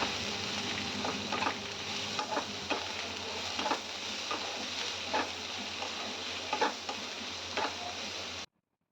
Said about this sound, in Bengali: এই পেঁয়াজটাকে খুব ভালো করে ভেজে নিতে হবে।